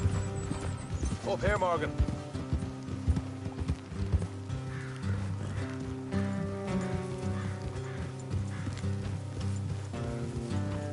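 Horses galloping in the Red Dead Redemption video game, rhythmic hoofbeats running under a musical score, with a horse whinny early on and a character speaking over the ride.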